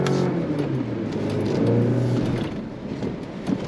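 A 2024 Chevrolet Colorado ZR2 Bison midsize pickup drives off-road through soft sugar sand, its engine a steady, loud low rumble and roar that swells midway and then eases, with no talking.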